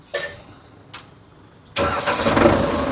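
An Indofarm 3055 tractor engine cranks with two short bursts, then catches and runs steadily with a loud, broad rumble close by.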